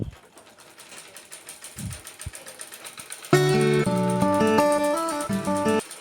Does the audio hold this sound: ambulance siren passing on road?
no